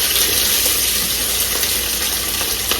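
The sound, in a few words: onions frying in pot with meat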